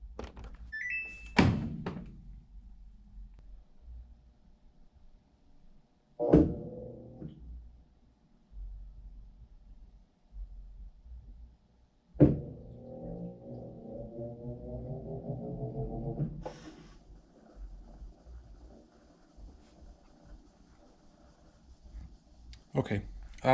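A Samsung top-load washer sensing its load on a rinse and spin cycle, giving several separate thunks and clunks followed by a steady low mechanical whir and hum, with quiet pauses between the knocks.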